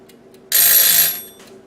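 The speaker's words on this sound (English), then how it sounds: "timer went off" Kitchen timer going off while eggs hard-boil on the stove, a single loud high-pitched ringing burst lasting about half a second before fading, alone in an otherwise quiet kitchen.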